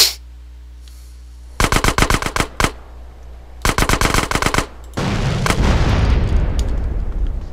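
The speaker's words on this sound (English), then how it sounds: "I'm gonna use my rocket launcher just to make it quick" In GTA San Andreas, two sharp bursts of rapid gunfire crackle, then a rocket launcher blast blows up a van in a loud, sustained rumbling explosion.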